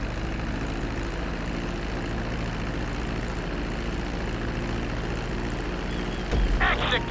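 Airplane engines drone steadily while a plane lands on a runway in GTA V, a continuous loud game-engine hum that holds through the clip, with a brief brighter burst near the end.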